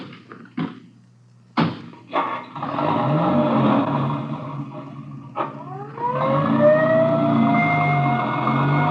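An ambulance siren sound effect in an old radio crime drama: a few sharp thumps, then a loud wailing siren rising and sweeping steadily, close and alone without talk.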